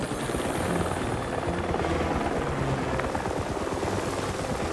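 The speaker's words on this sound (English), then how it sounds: "International adventurer Mason James wrestles with the gears of a helicopter" Cartoon helicopter flying in an animated kids' adventure, a continuous loud rotor thrum with a chopping low beat and engine whine, steady for the whole stretch with no talk.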